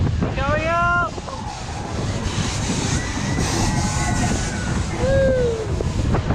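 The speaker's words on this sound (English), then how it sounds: "it's nice and breezy up here. A nice breeze up here" Breeze gusting across a microphone high up on an amusement park ride at Barry Island Pleasure Park, a loud continuous rumbling buffet, with brief voices and whoops breaking through on top.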